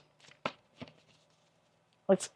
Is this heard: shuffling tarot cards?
yes